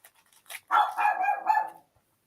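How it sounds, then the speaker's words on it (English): A dog gives a short burst of close, fairly loud barks, a quick yip followed by a sustained bark lasting about a second, then quiet. "There's no need for it to bark at all."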